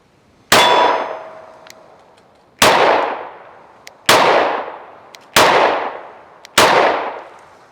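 Five sharp gunshots from a PSA Micro Dagger pistol at an outdoor range, evenly spaced about a second and a half apart, each loud crack with a ringing metallic clang that decays slowly.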